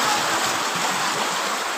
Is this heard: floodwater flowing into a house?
yes